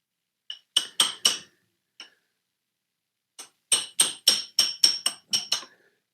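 A small hammer taps a piston into place on an engine crank, first in a short burst of four sharp metallic taps, then after a pause a faster run of about nine close, ringing strikes.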